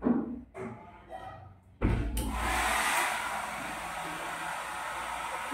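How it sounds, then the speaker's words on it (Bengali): A hair dryer blasts at close range to dry freshly shampooed hair, a steady loud whoosh that starts abruptly after a couple of thumps and soft voices, then runs on continuously. "শ্যাম্পু করে এই যে ড্রায়ার দিয়ে শুকিয়ে নিচ্ছি"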